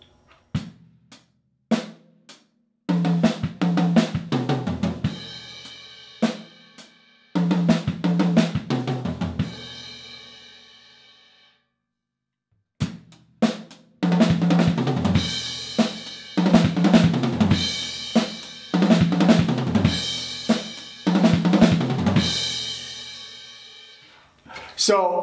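A drum fill runs across snare, kick, small and medium toms, floor tom and crash in fast bursts of hits separated by short pauses, loud and close with no talking.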